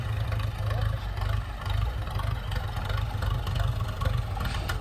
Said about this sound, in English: Oh, well, the tractor's fired up.